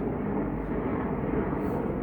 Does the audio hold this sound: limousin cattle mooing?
no